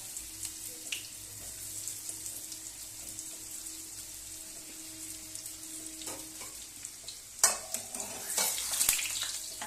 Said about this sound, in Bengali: ওই জন্য আমি ডবল ভাবে ভাজছি।